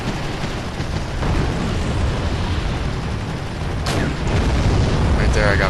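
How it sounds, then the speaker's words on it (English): Rocket barrage explosions in the war strategy game Wargame: European Escalation, during a street battle, rumbling booms rolling continuously, with sharper bursts cracking through near the end. "Right there I got a rocket barrage going, but it's very inaccurate."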